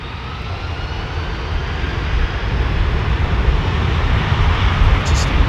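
A jet airliner at London Heathrow Airport roars steadily with a broad, sustained engine rumble that slowly grows louder over several seconds, heard from fairly close.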